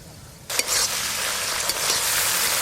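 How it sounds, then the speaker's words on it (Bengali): Prawns hit hot oil with a sudden loud sizzle that keeps crackling steadily, with a couple of sharper spits and stirring noises. "এই যে চিংড়ি মাছগুলো কাতলা মাছের মতো ভালো করে ভেজে নিলাম"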